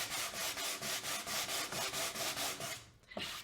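Close, rhythmic sanding strokes scrub back and forth across new wood for a weathered rustic porch sign, a run of about a dozen even passes, then a short pause and one final stroke.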